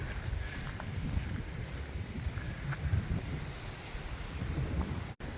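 Broadband rumble of waves breaking at the water's edge near Na Jomtien, steady and continuous with low wind noise, no voices present.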